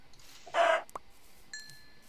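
A Minecraft chicken gives a short, close clucking call, followed by a faint click and a brief tonal game sound, with the background otherwise quiet.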